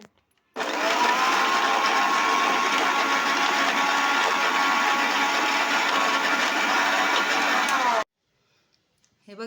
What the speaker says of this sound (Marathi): आता मी हे मिक्सरमध्ये फिरवून घेणार आहे।